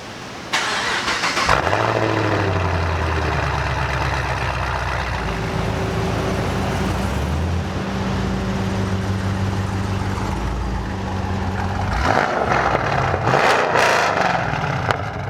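An LS3-powered C6 Corvette Grand Sport with fresh headers cranks and fires up, then barks through several sharp revs rising and falling over a loud, lumpy idle, close by, with a couple more blips near the end.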